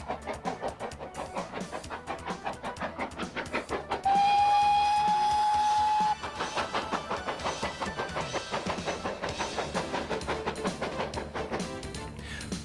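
Steam train on the Paignton and Dartmouth Steam Railway on the English Riviera, rhythmic chuffing exhaust beats throughout with a long shrill whistle blast partway through, then the steady chuff continues.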